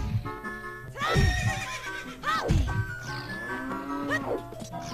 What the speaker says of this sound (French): Non, regardez les chevaux.